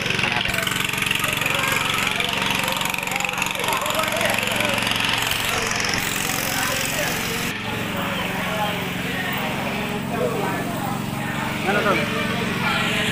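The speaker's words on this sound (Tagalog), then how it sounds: "medyo maingay kasi may umaandar ho na, no, na generator" A generator runs at a fish port, pumping water to a boat, a steady mechanical drone heard throughout beneath voices and busy harbor noise.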